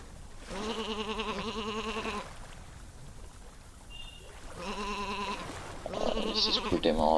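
Sheep in the farming video game Isle of Ewe bleat in two clear bursts, one long wavering bleat and a later shorter one, each followed by softer calls, with low ambient game sound between them.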